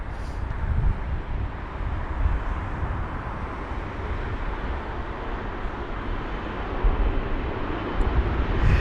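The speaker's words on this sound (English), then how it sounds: "we have got a British Airways A380 off to Miami, and that's taxiing to 27 right." A British Airways Airbus A380 taxiing at Heathrow toward runway 27 right gives a steady, broad engine roar and rush that holds level throughout and swells slightly near the end, with no talking.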